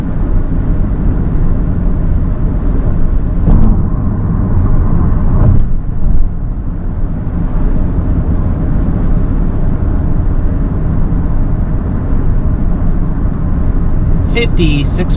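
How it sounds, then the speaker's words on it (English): Constant low road rumble and tire hum fill the cabin of a 2026 Toyota Prius Plug-In Hybrid at 55 mph, steady throughout, with a brief faint chime near the end. "let's see how quiet it is at 55 miles per hour"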